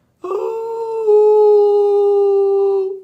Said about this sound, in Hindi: और कुत्ते रोते हैं ना, बहुत सुना होगा आपने, वो ऐसे करते हैं